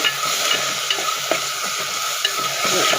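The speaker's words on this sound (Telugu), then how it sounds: "వేసి బాగా వేయించేసి" Mint leaves and spices fry and sizzle steadily in a hot pan while being stirred, a close, continuous crackle with small scraping accents and no talking, part of making an aloo kurma.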